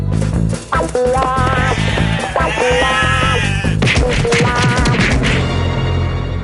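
A flock of sheep bleating in a cartoon scene, several overlapping wavering bleats over busy music and clattering effects, loud and close.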